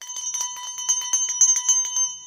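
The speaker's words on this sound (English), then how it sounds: "And I ring my bell." A hand bell is shaken in quick, even strokes, about a dozen bright metallic rings in a row, loud and close with nothing else heard.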